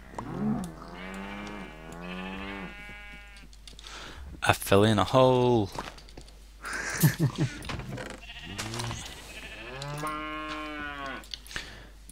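Cows moo repeatedly in a modded Minecraft game, several drawn-out tonal calls spaced across the scene, interleaved with someone talking over them.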